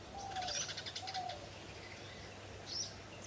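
Small birds chirping outdoors, a few faint, brief tweets spaced apart over a quiet background hum.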